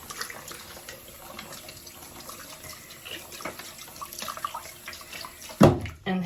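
Water runs steadily from a tap as hiking gear is rinsed off beneath it, a close, continuous splashing flow with a sharper burst of splashing near the end.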